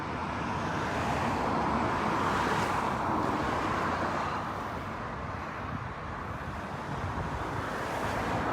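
Lorries rolling along the M20 motorway near the Euro Tunnel, a continuous broad roar of heavy traffic with wind buffeting the microphone, steady and moderately distant.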